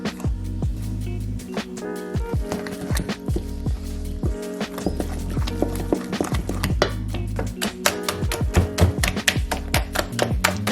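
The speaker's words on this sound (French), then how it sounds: "Je vais prendre le whisk, je vais bien mélanger." A hand whisk beating flour into a vegan dessert batter in a bowl, producing rapid, steady clinking and scraping strokes against the bowl, close and continuous throughout.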